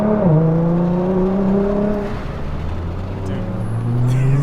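A Nissan GT-R NISMO R35 accelerates hard, its engine tone dropping at a shift and then rising steadily again, heard loud from inside the cabin with wind and road roar underneath.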